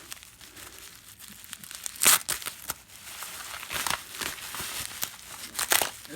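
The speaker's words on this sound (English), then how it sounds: "now let's unwrap this thing." Packaging around a Hornby A4 model locomotive being unwrapped close up: bursts of crinkling, crumpling and tearing plastic and paper, loudest in a few sharp rustles, with no speech.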